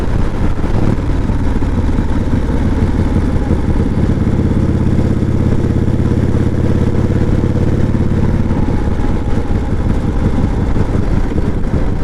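A 1988 Harley Davidson Heritage Softail with a sidecar rumbles along the road, its loud, steady engine drone close and continuous, with wind and mechanical clatter throughout and no talk.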